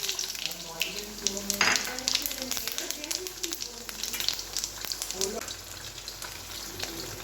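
Whole spices for a Bengali tempering hit hot oil in a wok while banana flower curry is being made, giving a steady close sizzle with scattered sharp crackles and pops throughout.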